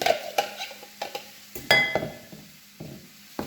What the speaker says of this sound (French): dans un récipient, vous mélangez donc 2 œufs, un morceau d'ail ou échalote suivant vos goûts